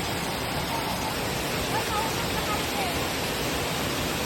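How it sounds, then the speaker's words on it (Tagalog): Hulugan Falls in the Philippines pours as a steady, dense roar of rushing water, close and continuous, with no break in the noise. "At dito nga ay narating na rin natin ang Hulugan Falls."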